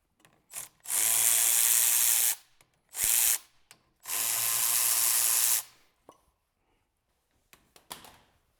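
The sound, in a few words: loosening FJ Cruiser brake caliper bolts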